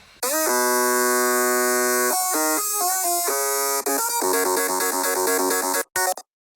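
Sustained synthesizer chords shift through a series of held harmonies, bright and buzzy, without any rapid arpeggiated pattern, ending abruptly.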